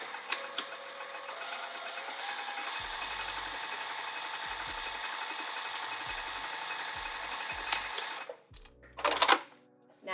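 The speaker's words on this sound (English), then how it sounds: "I'm going to sew right in that ditch, starting on the lining side." A sewing machine runs continuously, stitching in the ditch along a binding from the lining side, with a steady mechanical hum and a few low thumps. It stops near the end, followed by a short clatter.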